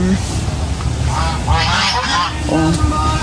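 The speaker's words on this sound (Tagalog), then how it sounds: "Gansa." Geese honking loudly and repeatedly nearby, several calls overlapping in a noisy outdoor setting with some voices mixed in.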